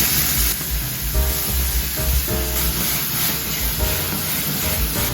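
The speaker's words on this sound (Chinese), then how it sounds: "热锅下一点香油，杏鲍菇下去拌炒一下" King oyster mushrooms stir-fried in a hot pan with sesame oil, giving a steady close sizzle and hiss with light stirring clatter throughout, no talking.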